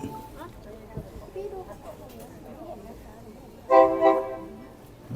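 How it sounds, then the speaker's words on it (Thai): A train horn toots loudly at Rom Hup market in Maeklong, Thailand, as two short close blasts near the end after a stretch of quiet market ambience with someone talking over it. "นี่ครับรถไฟ"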